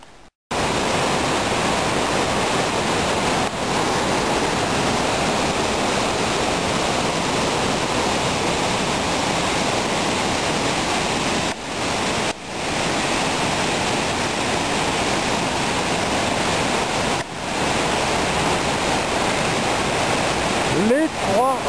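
A waterfall pours steadily near Trois Roches below the village of Marla, a dense, continuous rushing roar that stays loud and even throughout, with only brief dips.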